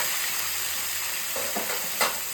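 Cut mangoes fry in hot oil with mustard seed, fenugreek, fennel, nigella and dried chilli for a mango chutney, making a continuous close sizzle with a few stirring scrapes toward the end.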